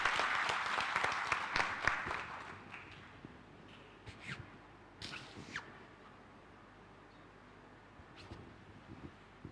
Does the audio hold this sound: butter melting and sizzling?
no